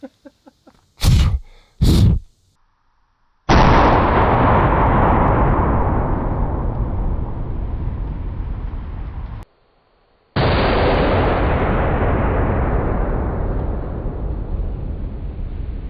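.50 caliber rifle muzzle blasts ring out, two sharp close bangs followed by long, loud roaring bursts of rushing noise as flour is blown around, each fading slowly, with no talking.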